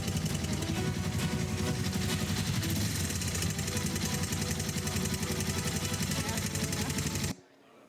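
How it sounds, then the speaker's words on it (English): A Honda motorcycle engine with a strange fault runs loudly and continuously with a rough, rattling, knocking churn, close up, before cutting off abruptly near the end. "the motorcycle started making a really strange sound"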